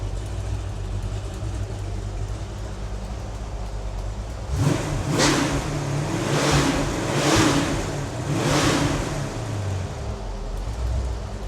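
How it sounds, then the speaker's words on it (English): A built Ford 302ci V8 idles steadily, then gets blipped through four sharp revs in a row before settling back to idle, close and loud. "I'll give you a couple more wraps here,"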